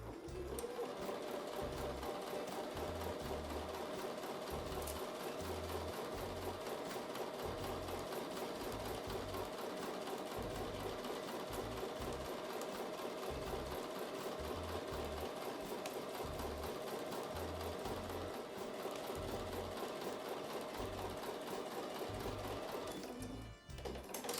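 A sewing machine stitches a 1/4 inch quilt block seam continuously at a steady pace, its fast rhythmic needle chatter and motor hum running uninterrupted for over twenty seconds.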